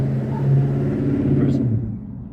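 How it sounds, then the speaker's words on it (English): Road traffic rumbling past, a heavy low vehicle drone that swells and then fades as it moves away, loud and continuous. "excuse the noise. Oh, that traffic."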